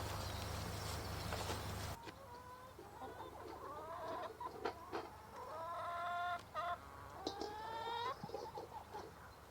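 Chickens cluck and call in a backyard chicken run, several close, irregular bursts of clucking and squawks over quiet ambience after an initial burst of noise, with no talking.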